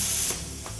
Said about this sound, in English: Flip the safety trigger forward and press the red torch trigger.